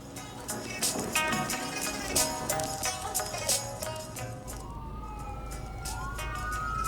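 A fire truck siren on a Vancouver street, its wailing tone sweeping up and down from a distance, first beneath clattering street noise and then clearer over a low steady rumble of traffic.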